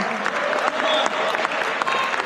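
A crowd applauds team UNEX at a prize distribution, a short, dense, continuous round of clapping that stays at an even loudness throughout.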